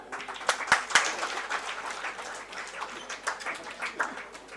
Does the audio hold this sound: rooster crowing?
no